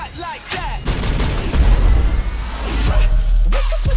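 Loud gunfire and booming impacts from a Fast & Furious 8 action trailer burst in dense volleys over rumbling, with brief voices and whooshing effects mixed in.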